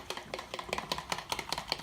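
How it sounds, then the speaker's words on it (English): A fork stirs chia pudding in a quick, rhythmic series of about ten light clinks and scrapes against the bowl, close and fairly quiet. "I'm going to actually grab a fork to stir this all around."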